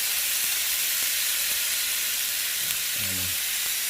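Snapper fillets pan-searing in butter, with a loud, continuous close hiss and sizzle throughout and a brief low rumble near the end.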